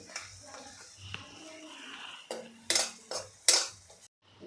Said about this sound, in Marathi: आता यामध्येच घालायचे आहे आलं लसूण पेस्ट दोन ते तीन मिनटे आपल्याला परतून घ्यायचे आहे